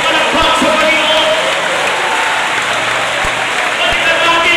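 A church congregation claps together in a loud, steady wash of applause with a few cheers mixed in, continuing without a break.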